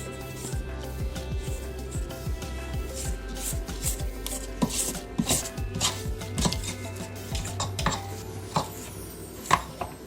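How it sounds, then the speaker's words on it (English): A spatula scrapes the sides of a bowl of thick blueberry cake batter for a lemon blueberry layer cake, giving close, repeated rasping strokes with occasional knocks against the bowl. "So I'm going to scrape down a bowl."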